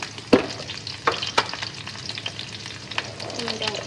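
Ginger garlic paste sizzles and fries in a pan for chicken chops, with a steady crackle and several sharp clinks of stirring against the pan, close and without talk.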